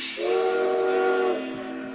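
A video game steam locomotive whistle blows one sustained, fairly loud blast with hissing steam, then fades into a softer hiss; no distinct chugging stands out.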